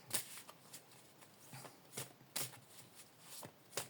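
Tarot cards being shuffled for a reading, with a series of crisp riffling bursts repeating at an uneven rhythm, close and fairly quiet, and no talking.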